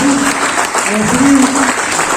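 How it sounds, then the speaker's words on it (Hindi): Seminar audience at a health MLM event in Satna, India, clapping loudly in welcome, a dense steady roar of applause with a voice sliding over it throughout the short burst. "एक बार अपनी जगह पे खड़े होंगे जोरदार तालियां।"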